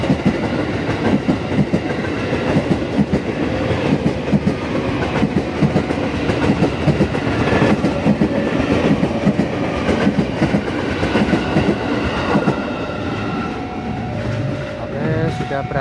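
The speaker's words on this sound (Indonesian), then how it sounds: "Dan ini KRL-nya." An electric commuter train (KRL) in Indonesia rumbles past close by, steady loud rolling noise with rhythmic clatter of wheels over rail joints throughout, a faint tonal squeal near the end.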